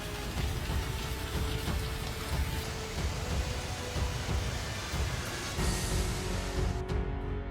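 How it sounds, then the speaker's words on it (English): Torrential hail pelting streets in Spain, a continuous, dense clatter of countless impacts that stays loud and unbroken throughout, with no voices present. "the sky also opened up torrential hail continuously"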